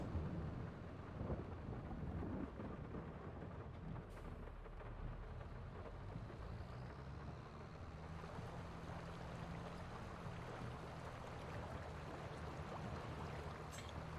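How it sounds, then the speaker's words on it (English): Steady rain with rumbling thunder in the Farming Simulator video game on a Carpathian farm map, a continuous dense wash of noise throughout, with no voices. "Too much of it, too much rain's not a good thing, but just the sound of it I like."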